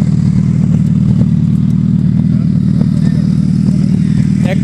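A motorcycle fitted with an Akrapovic exhaust throbs close by in a loud, steady low rumble, holding a constant idle-like tone with faint clatter over the top.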